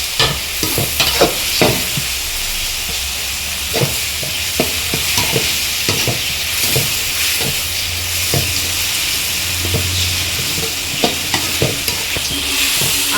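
Onions with ginger-garlic paste sautéing in a pan for chicken gravy, with a steady sizzle and hiss and repeated sharp scrapes and taps of a spoon stirring throughout.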